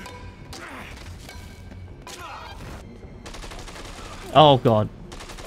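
Enemy gunfire in Dead Rising 2 crackles as scattered bursts of shots under game noise, with a voice reacting briefly near the end.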